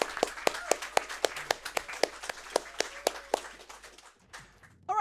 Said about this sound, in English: So round of applause, everybody, for Crisis.